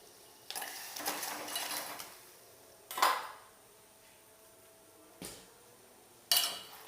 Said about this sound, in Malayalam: ഇനി ഇത് തയ്യാറാക്കിയ ശർക്കരപ്പാനിയിലേക്ക് ഇട്ട് കൊടുത്ത് ഇളക്കിയെടുക്കാം